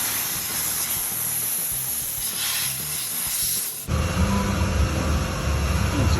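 Compressed air blasts over a wiped 1960s Holden Premier body panel during restoration, a loud continuous hiss that shifts in tone partway through as the nozzle moves, with no talking.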